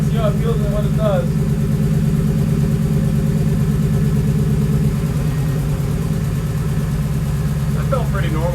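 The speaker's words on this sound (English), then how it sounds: "I'm going to slowly let the clutch out, see how it feels and what it does" A car engine drones steadily as its newly fitted manual transmission's clutch is slowly let out in first gear. Brief voices come in at the start and end.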